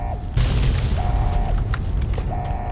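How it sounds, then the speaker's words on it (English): Explosions booming in the Fallout: New Vegas Lonesome Road game, a loud low rumble setting in and holding under brief bright mechanical beeps. "There's a lot of explosions happening."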